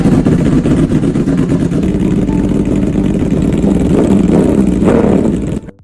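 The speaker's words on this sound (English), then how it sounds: "After a brief sputter, the engine roared to life." A restored MV Agusta Brutale 1000 RR motorcycle engine runs loudly and steadily, rumbling and surging with throttle for several seconds, then cuts off abruptly near the end.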